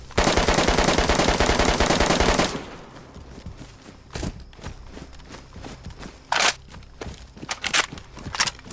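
Rapid automatic gunfire bursts loudly in the DayZ survival game, then gives way to quieter footsteps and a few scattered, more distant shots.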